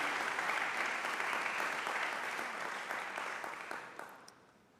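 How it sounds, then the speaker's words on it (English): An audience at the opening ceremony of an international voice competition applauds steadily and fairly densely, the clapping holding for several seconds before tapering off and fading out. "Please, a warm round of applause for Dr. Samson Diamond."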